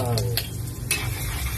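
Garlic and onion fry in canola oil, a steady close sizzle with light stirring scrapes in the pan and a voice talking over it.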